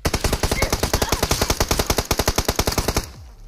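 Rapid automatic cover fire from a teammate in BGMI (PUBG Mobile) during a solo-versus-squad match, a long steady burst of close, loud shots that stops abruptly near the end.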